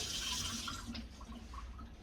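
Water gushes from a newly installed kitchen faucet, a steady broadband rush that is loud for about a second, then eases into a softer, uneven trickle.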